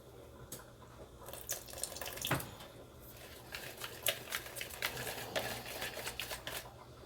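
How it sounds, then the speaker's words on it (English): Water trickles and splashes into a thick cooking mixture of sugar and vegetable oil, with clinks and rustles from stirring, quiet and close, with no talking. "I'm gonna add a little water with this."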